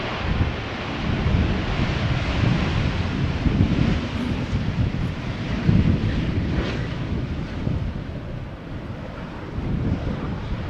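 Strong crosswind at Schiphol Airport buffets an outdoor microphone, a loud, continuous rumbling roar with gusty swells and no talk.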